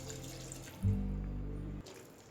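Water poured from a glass into grated potatoes in a cooking pot: a steady, close pouring rush lasting about a second, with quieter kitchen sounds before and after.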